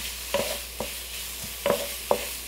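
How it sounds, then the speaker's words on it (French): Ground meat frying in a wok and being broken up with a utensil, a soft sizzle under a few sharp scraping and tapping strikes at irregular intervals, heard close with no talk. "je vais juste venir écraser la viande parce qu'on va essayer de l'égrainer durant toute la cuisson"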